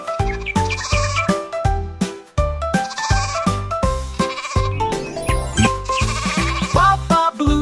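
A sung, sheep-like bleat over a bouncy children's nursery rhyme, with the voice imitating the animal in rhythmic repeated notes, loud and upfront over steady music.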